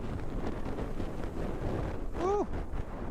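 Wind buffets the microphone steadily while riding a BMW R 1250 GS motorcycle during slow-speed exercises, a constant low rumble with a brief whistling tone near the end.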